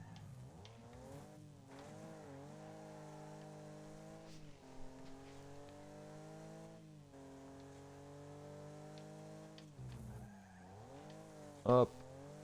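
Race car engine revving and tires skidding in the Wreckfest driving game, a loud sustained engine whine rising and falling through gear shifts, with a sharp crash near the end and someone talking over it.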